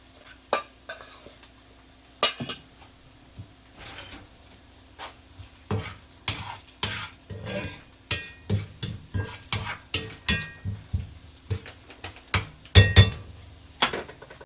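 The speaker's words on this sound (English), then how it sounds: "Stir that enough to get the lumps out." Canned tuna is stirred into sautéing onion in a hot skillet: a faint sizzle under a quickening series of spoon scrapes and knocks against the pan, close, ending in a few louder clanks.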